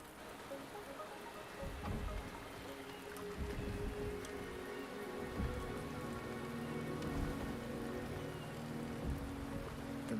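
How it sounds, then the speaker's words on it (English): Rain falling in the video game Wuthering Waves, a soft, steady wash of raindrops heard at a distance, with low rumbling swells and game ambience underneath. "rain is subsiding, and the sky will soon clear."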